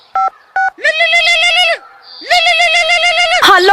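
A telephone keypad dials a police number with two short, separate tone beeps, followed by longer sustained electronic tones.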